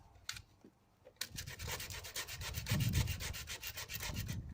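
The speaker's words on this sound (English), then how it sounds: "Right, I've sanded this. Needs a little bit more." Hand sanding of rust repair on a van body, rhythmic back-and-forth scraping strokes, close and fairly loud, after a few isolated scratches at the start.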